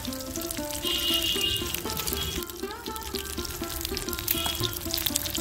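Food sizzles in a pan of oil for a quick tomato dish, a steady close crackle with a faint tonal melody running beneath it.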